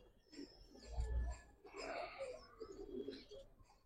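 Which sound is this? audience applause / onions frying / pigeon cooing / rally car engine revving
pigeon cooing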